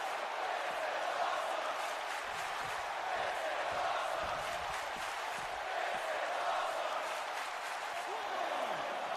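A wrestling arena crowd roars and cheers steadily throughout a live show, a dense wall of voices with rhythmic chant-like pulses, loud and continuous with some shouts rising above.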